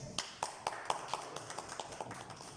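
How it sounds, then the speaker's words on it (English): A small audience at a youth leadership speaking event gives a faint round of applause: scattered, uneven hand claps, quiet and somewhat distant, with no voices over them. "Give him a round of applause for that."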